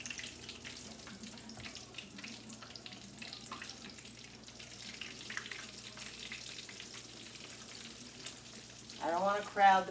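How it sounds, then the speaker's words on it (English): Food deep frying in hot oil in a pan for homemade Chick-fil-A style chicken, a steady close crackling sizzle throughout, with a brief burst of louder bubbling and rustle at the end. "I just figured I'd do the little deep frying tonight"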